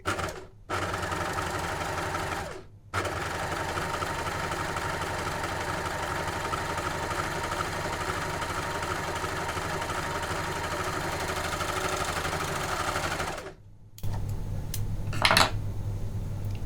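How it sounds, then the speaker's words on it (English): A Janome overlocker sews a rolled hem, running as a steady, loud mechanical whir that stops briefly twice near the start, then halts, leaving faint handling clicks and rustling after it stops. "What the machine will do, the overlocker, is it will cut off all of those little bits that are trailing off the edge, neaten up the edge, and then it will sew the rolled hem"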